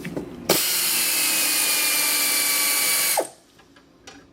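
A pneumatic impact wrench runs on the factory sway bar bushing bolts of a MINI Cooper rear suspension, one loud, steady burst of about three seconds that starts and stops abruptly, with quiet shop noise before and after.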